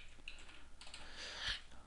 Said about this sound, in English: So I'm actually just going to double click in here and I'll begin typing.